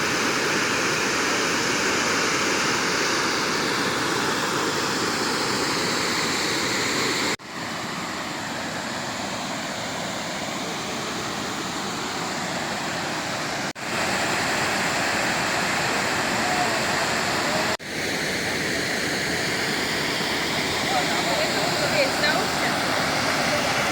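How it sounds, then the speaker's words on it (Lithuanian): A waterfall near Podgorica, Montenegro roars close by in a steady, loud, unbroken rush of falling water, with only a few brief cuts. "Sveiki atvykę prie Niagaros krioklių."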